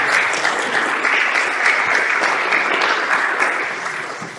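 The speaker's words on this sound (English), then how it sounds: "please a big round of applause for Michał" An audience at a conference's closing session claps warmly and continuously for the final speaker, a dense, even burst of applause that tapers slightly toward the end, with no talking.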